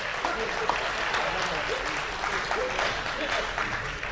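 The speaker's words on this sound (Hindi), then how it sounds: "एक बार जोरदार तालियां बजा दीजिए" Sustained applause from a poetry-reading audience, many hands clapping hard in an even, unbroken roar from start to finish.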